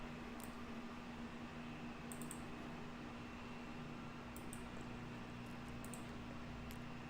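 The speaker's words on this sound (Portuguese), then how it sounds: "desculpe o barulho, tanto do meu ventilador" Constant whirring hum of an electric fan running close by, steady and unbroken, with a few faint high clicks.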